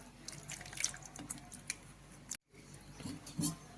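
Mangoes being washed in water, with faint splashing, drips and handling sounds in a fairly quiet room, plus a few brief sharper knocks.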